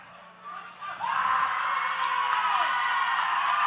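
During a live OVW wrestling match, a wrestler lets out a long, loud, sustained scream over a noisy arena crowd.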